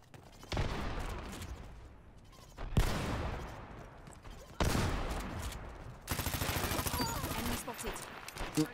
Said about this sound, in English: Got a lucky kill from that distance with my SMG